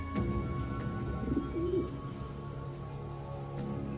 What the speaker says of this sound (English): These are real doves.